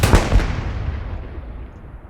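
A loud, close boom of artillery fire in the World War II shooter Hell Let Loose, with a couple of sharp cracks at the start and a long rumbling roll that fades over two seconds, no speech.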